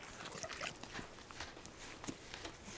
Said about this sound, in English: Listen to the sound that horses make when they chew.